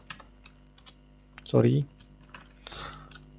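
Python code tapped out on a computer keyboard, a string of light, scattered key clicks with a short burst of voice partway through.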